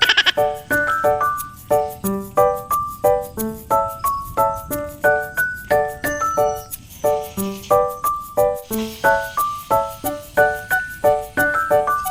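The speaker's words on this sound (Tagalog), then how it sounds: "Ay, may lalaking kambing po pala." Goats, including a male, bleat repeatedly and loudly at close range, one wavering call after another in a steady run, with no talking.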